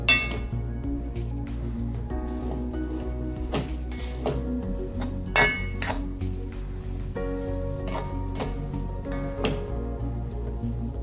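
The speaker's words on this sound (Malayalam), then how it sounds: "നമ്മുടെ റവ ഇതിലേക്ക് ആഡ് ചെയ്തിട്ട് നല്ലോണം മിക്സ് ചെയ്യാം" Roasted rava is stirred into a pan for beetroot rava ladoo, giving repeated light clinks and scrapes of a spoon against metal at an uneven rhythm over a steady low background hum.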